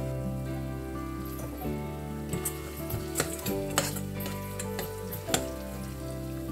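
Onions and green chilies sizzle steadily in a pan over a medium flame, a continuous crackling hiss with occasional sharper pops and stirring clinks over a low hum.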